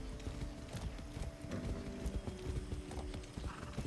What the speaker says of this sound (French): Merde, je suis pas montée à cheval depuis l'entraînement de base.